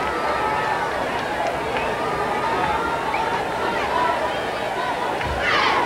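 Capacity crowd at Robert Waldrop Stadium during a Homewood versus Mountain Brook high school football game, heard as a steady, dense murmur of chatter and babble with scattered calls and a brief rise of noise at the end.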